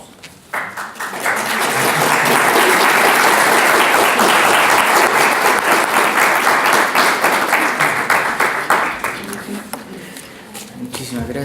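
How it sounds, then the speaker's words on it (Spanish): A lecture audience gives warm, sustained applause after a conference talk on Chilean society, dense clapping swelling quickly and holding steady before thinning out near the end. "de haber aplaudido a Katia"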